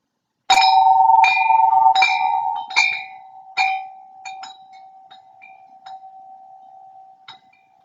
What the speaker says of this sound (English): As you focus on the sound of the morning bell, may you enter into the spirit of worship.